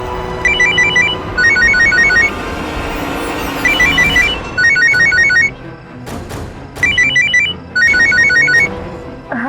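A telephone rings loudly in repeated double bursts, with a few sharp clicks and knocks between rings.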